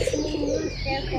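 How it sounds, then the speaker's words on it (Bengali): Pigeons cooing, a low soft rolling call close by, with a person talking over it during the brief moment. "কবুতর কি সুন্দর ডাক পাচ্ছে দেখ।"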